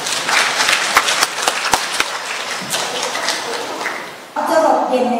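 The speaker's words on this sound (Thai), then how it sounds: "ขอเสียงปรบมือด้วยครับ" Audience applause after a Thai dance performance in the theatre of Ubon Ratchathani Rajabhat University's cultural centre: a burst of clapping with sharp individual claps that fades, then a voice speaks over the end.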